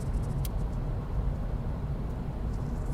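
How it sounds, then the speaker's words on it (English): A landscaping car loaded with a ladder, rakes and equipment on its roof passes by as a steady, fairly loud road rumble and tire hiss, constant through the moment, with a faint tick near the start. "There's a car with a lot of stuff on the top."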